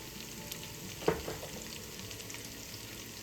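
Garlic frying in a soup pot, a quiet steady sizzle with one brief stir or clink near the middle, no voices present.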